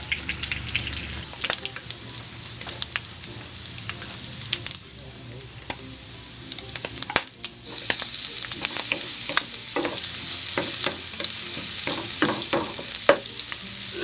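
Pork browns in a frying pan with a steady, close sizzle that runs throughout, broken by frequent scraping and clacking stirs of a utensil against the pan.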